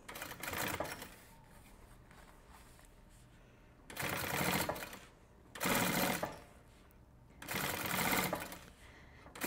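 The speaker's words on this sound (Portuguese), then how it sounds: "eu vou costurar aqui em cima da mesma costurinha que a gente já tinha feito antes" A sewing machine stitches a cosmetic travel case in four bursts of rapid mechanical whirring and needle clatter, with quiet pauses in between, close and clear.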